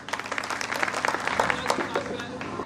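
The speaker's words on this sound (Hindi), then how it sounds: "आपको एक बार इनके लिए तालियां हो जाएं।" An audience at a Hindi poetry gathering breaks into steady applause, a dense crowd of claps with some voices mixed in.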